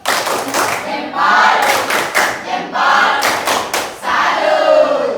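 Classroom of students giving a rhythmic clap salute, several loud bursts of group clapping with shouting voices, close and energetic, filling the room in repeated waves.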